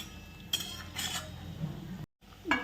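Utensils clink and scrape against a pan while crisp potato fritters are flipped over low heat, with a few sharp metallic taps standing out over a quiet background.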